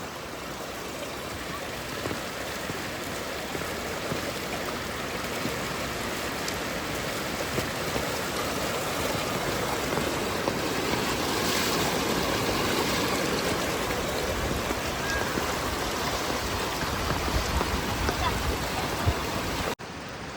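Floodwater from very heavy rain in Girnar rushes down a flooded road, a steady broadband roar of flowing water that stays loud and continuous throughout, with a voice talking now and then over it.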